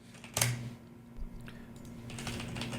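Computer keyboard typing, faint and sparse, with one sharper keystroke cluster near the start and a light patter of clicks toward the end.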